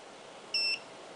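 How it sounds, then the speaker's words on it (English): A Contour GPS action camera gives a single short, clean electronic beep during a firmware update, alone against a faint steady hiss. "And we should hear another beep."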